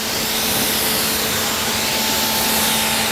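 A spray blasts across a car engine bay from the passenger side, a loud, continuous close hiss with a faint steady hum under it and no talking.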